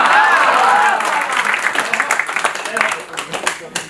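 An audience at a Gujarati poetry gathering (kavi sammelan) breaks into loud applause, dense clapping that thins into scattered claps toward the end, with a voice briefly over the start.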